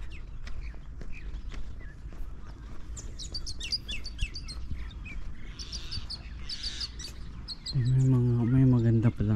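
Birds chirp and tweet repeatedly among trees in Flatbush, New Zealand, a scatter of short high calls over steady low background noise, before a person starts talking toward the end.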